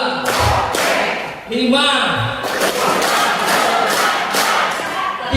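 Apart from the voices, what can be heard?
group clapping in rhythm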